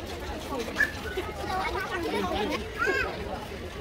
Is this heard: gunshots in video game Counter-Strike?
no